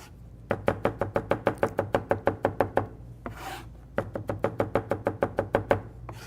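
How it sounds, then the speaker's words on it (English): A knife rapidly chops vegetables on a cutting board in two quick bursts of evenly spaced, crisp taps, with a brief pause between runs, close and clear with no talk. "mincing means very, very fine chop without any shape, without any definite shape"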